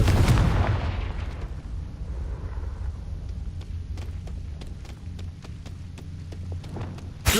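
A Confringo fire spell in Hogwarts Legacy bursts with a heavy, booming blast right at the start and trails into a long rumbling decay, with faint sparkling crackles and a sharp hit at the very end.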